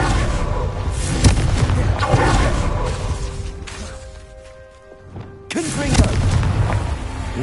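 A Confringo fire-blast spell from Hogwarts Legacy on PS5 goes off as a loud, booming burst. Dense crashing impacts sit beneath game effects and ambience, followed by a brief lull and another strong hit.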